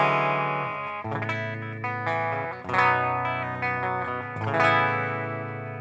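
Clean electric guitar tone from a Fredman Fredhead amp sim with the distortion switched off: ringing sustained notes and chords with shimmering chorus and echo, played alone at moderate volume.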